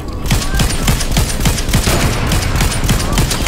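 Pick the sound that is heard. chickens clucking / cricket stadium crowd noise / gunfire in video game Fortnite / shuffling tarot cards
gunfire in video game Fortnite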